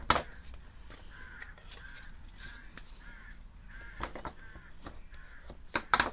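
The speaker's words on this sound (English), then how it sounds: "Actually, they're rooks. They're not crows. Rooks cawing away." Rooks cawing from a rookery in an oak tree, a run of repeated harsh caws in a steady rhythm, fairly distant and faint, with a few soft knocks and clicks nearby.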